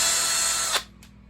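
A drill driving a 1/4 inch bit into PVC for a kayak GoPro mount, a steady loud whirring whine that runs for most of a second and then cuts off abruptly.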